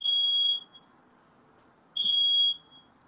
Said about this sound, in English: where's this alarm coming from?